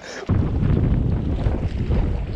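Strong wind buffets the microphone with a steady low roar and rumble while fishing for sea bass, after a brief quieter moment at the start.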